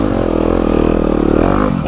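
A 2021 Yamaha YZ250FX dirt bike engine runs close by with a steady, rough revving drone that rises slightly midway and holds without pause, with no talking.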